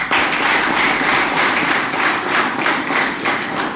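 An audience at a Safe Shop motivational event breaks into loud, dense applause for the leaders, steady rapid clapping that fills the hall without pause.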